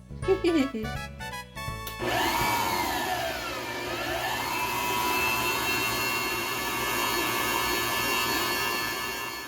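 An electric mixer with a guard on top blends red velvet cupcake batter: a few clattering knocks at first, then a loud, steady motor whine whose pitch slowly sweeps up and down.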